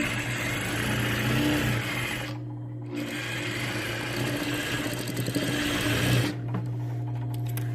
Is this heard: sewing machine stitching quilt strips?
yes